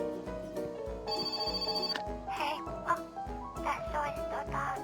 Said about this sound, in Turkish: Aha telefon çalıyor.